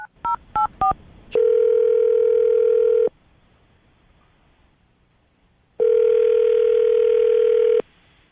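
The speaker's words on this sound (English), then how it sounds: "I'm going to dial the phone number right now" Three quick telephone keypad beeps, then two long, steady ringing tones separated by a pause of silence.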